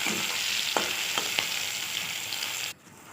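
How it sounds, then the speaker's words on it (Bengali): Onion frying in hot oil with two bay leaves in a wok gives a steady close sizzle with a few sharp stirring clicks, then the hiss cuts off abruptly near the end. "একটা কড়াই বসিয়ে এখানে তেল দিয়ে দুটো তেজপাতা দিয়ে ফোড়নে দিয়ে দিলাম পেঁয়াজ"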